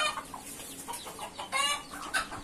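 Several chickens cluck close by on a rooftop coop where hens sit with their chicks, giving bursts of agitated calls that rise and fall without pause.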